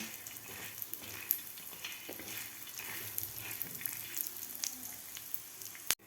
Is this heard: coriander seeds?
yes